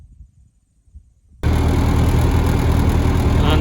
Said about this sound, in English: I don't know if you can hear this because the tractor's kind of loud